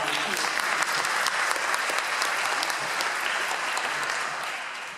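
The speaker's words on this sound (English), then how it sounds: "Please applaud for volunteers." Sustained clapping from an audience at a book festival honoring volunteers, a dense even roar of many hands that fades slightly toward the end.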